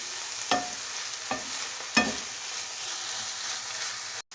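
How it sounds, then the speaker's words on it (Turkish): Chopped green peppers and onions fry in a pan for karnıyarık, a steady soft sizzle with a few sharper scraping stirs of a utensil, close and alone without talk. "küçük küçük doğramış olduğum yeşil biberlerimizi de içine koyuyorum. Ve tekrar kavurmaya devam ediyorum"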